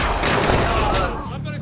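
Gunfire from a film shootout erupts in a dense, loud burst of overlapping shots and booms, then thins slightly toward the end.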